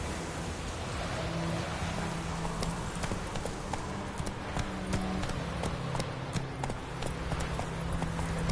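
Roach the horse gallops in The Witcher 3, a steady run of hoof clip-clops close by that repeats evenly throughout over a faint wash of ambient noise.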